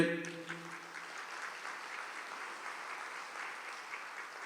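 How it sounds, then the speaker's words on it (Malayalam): A church congregation claps with hands raised, a steady, moderately quiet wash of applause following a brief voice at the start. "അത് കൈയുയർത്തി കൈയടിച്ചേ"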